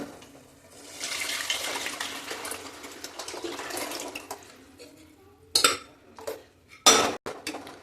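Cooked dal poured into a sizzling tempering (baghar) erupts in a loud hissing splutter, then sharp metallic pot and spoon clatters with brief bursts of sizzle, close by.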